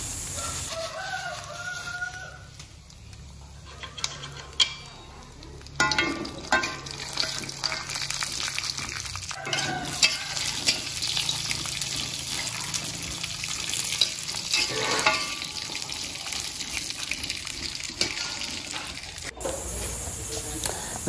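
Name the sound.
peanuts frying in a little oil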